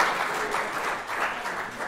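An audience claps at a school sixth form prize giving, steady dense applause of many hands at moderate loudness, with no break from start to finish.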